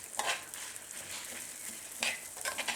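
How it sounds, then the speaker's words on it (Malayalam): Toor dal and dried red chillies fry in butter over a low flame, giving a faint, soft sizzle with a couple of brief stirring scrapes. "ഈ ബട്ടറിൽ ലോ ഫ്ലെയിമിൽ വെച്ചിട്ട് ഇതിന് പരിപ്പ് നിറം മാറുന്നത് വരെ നമുക്കൊന്ന് വറുത്തെടുക്കണം"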